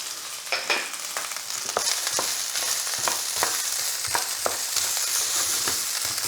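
Garlic scapes and bacon frying in a pan make a loud, close, continuous sizzle, broken by regular scraping clicks from stirring.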